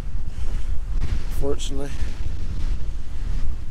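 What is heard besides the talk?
wind blowing at Knockoneill Neolithic court tomb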